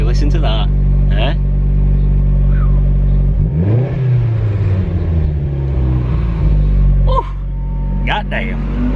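A car engine with a newly fitted exhaust revs up and down loudly nearby, a deep rumbling idle rising into a throaty swell and falling back, while someone talks over it.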